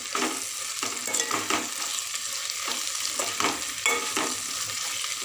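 A spoon stirs chilli powder into broad beans frying in a pan, with a constant close sizzle and repeated scraping strokes about every half second.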